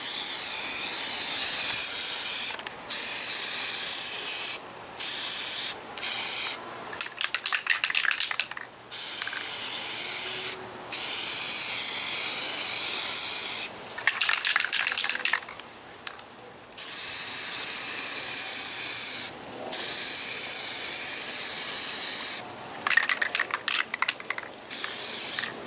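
Plasti Dip sprays onto a Mazda Miata in long, steady hissing bursts of several seconds each, loud and close, separated by short pauses of near silence.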